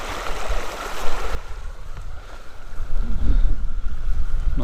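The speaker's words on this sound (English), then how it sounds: "Proper babbling brook." A babbling brook on Dartmoor rushes and gurgles steadily at close range, a continuous wash of water with no voices over it.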